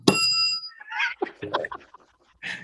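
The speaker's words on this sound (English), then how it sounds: "Yeah, ring the bell." A desk bell is struck once at a radio station's studio workstation, a bright ringing tone with clear overtones that fades within half a second, followed by nearby talk.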